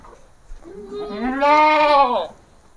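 A single goat gives one drawn-out, wavering bleat that rises and then fades, close and clear against a quiet farm pen, with a few faint knocks just before it.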